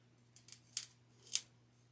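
Scissors snipping while making a floral topiary: four or five quick, crisp cuts in two short bursts, close and clear over a quiet background hum.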